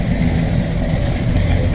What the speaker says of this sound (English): It's got a little bit of a lope to it, but nothing too crazy.